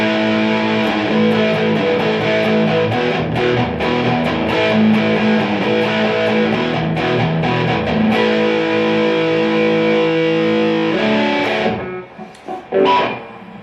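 An electric guitar plays through a Blackstar HT Club 40 valve amp on its light reverb setting, distorted chords and notes ringing loud and sustained for about eleven seconds before fading into quieter picking.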